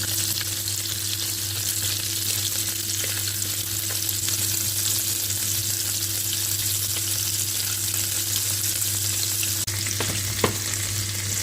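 Shrimp frying in a pan for a Greek shrimp-with-rice dish, a steady dense sizzle with a low hum beneath, continuous throughout with a couple of brief clicks near the end.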